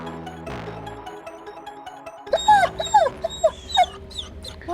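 A German Shepherd whimpers and yips anxiously on catching sight of another dog, a run of short, high, rising whines following an earlier stretch of lower noise.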